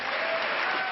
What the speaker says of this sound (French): L'assistance applaudit, même John Kerry